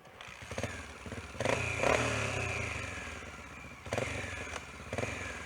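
A trail rider's dirt bike approaches on a dirt trail, its mid-pitched engine buzzing steadily and swelling with revs, rising and falling in loudness with a few sharper throttle blips over several seconds.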